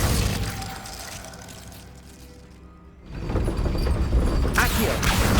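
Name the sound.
Glacius freezing spell cast in video game Hogwarts Legacy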